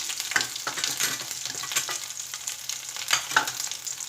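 Tomato and spices, including turmeric and onion-garlic masala, sizzle and fry in a pan while being stirred, a steady close crackle with a few louder scrapes and pulses throughout.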